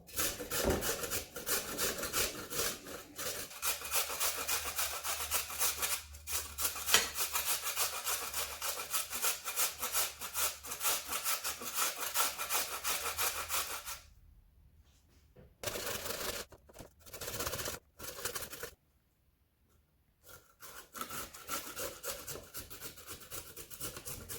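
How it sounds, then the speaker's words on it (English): Raw, unpeeled potatoes rubbed against a hand grater into a bowl, a loud, steady rasping scrape in long continuous strokes, breaking off into short bursts and pauses near the end. "without even peeling, I'm just going to grate my potatoes straight into a bowl."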